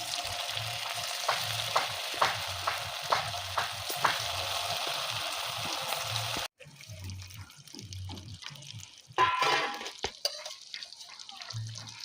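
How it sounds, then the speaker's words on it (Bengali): Large cauliflower fritters fry in hot oil with a loud, dense hiss punctuated by regular stirring pulses, before the sizzle drops to a quieter crackle with a few sharper knocks. "তেল গরম হয়ে গেছে, বড় সাইজে ভেজে নেব।"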